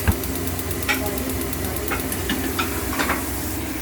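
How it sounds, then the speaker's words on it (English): Chopped guanciale fries in a pan with very little oil, giving a steady close crackling sizzle broken by small sharp pops and spits throughout. "I added the chopped up guanciale into the pan, without adding that much oil"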